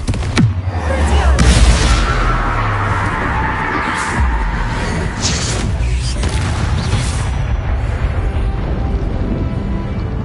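Spell blasts go off in the video game Hogwarts Legacy: a loud booming burst early on, then sustained rumbling, crackling magical effects with further hits layered over a dense background.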